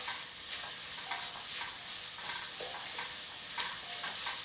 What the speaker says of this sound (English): I'm going to be adding in some mushrooms.